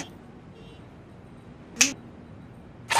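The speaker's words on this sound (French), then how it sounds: "À mon claquement de doigts, tu vas quitter cette transe et redevenir toi-même." Two sharp finger snaps, the first near the middle and another right at the end, crisp and close over a quiet background, ending a hypnotic trance in a cartoon scene.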